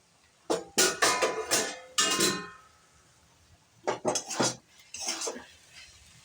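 Metal pot lid clatters and scrapes as it is lifted off a pan of cooking greens, a few loud close clanks in two bursts separated by a pause, with no voices.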